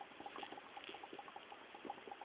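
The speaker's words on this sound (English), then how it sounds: "So now it's really boiling." Water boils with a steady stream of small popping bubbles, quiet and close, in a continuous irregular burble.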